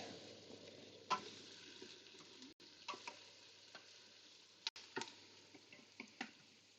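Sausage browning in an Instant Pot, with a steady soft sizzle and occasional sharp clicks and scrapes from stirring, quiet and close with no talking.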